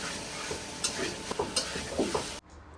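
Country chicken being sautéed in a pan for a Bangladeshi village meal, a dense steady sizzle with intermittent spatula scrapes and taps, close, fading abruptly to quiet at the end.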